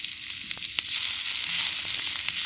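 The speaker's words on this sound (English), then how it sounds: "So I'm going to stir fry an onion first." Onion and ginger stir-fry in a hot pan for a mango shrimp dish, giving a loud, steady sizzle with faint scraping from stirring.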